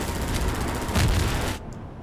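A regenerating-ammo weapon in Half-Life 2 fires a rapid burst, a dense loud rattle of shots lasting about a second and a half before cutting off abruptly, followed by a brief quiet tail.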